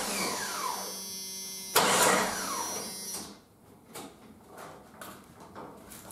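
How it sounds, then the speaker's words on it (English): A Jeep 4.0 straight-six engine with piston slap bumped over by the starter, a whirring crank that swells and winds down in a few seconds, followed by quiet clicks and shuffling. "I'm going to bump the engine over with the starter"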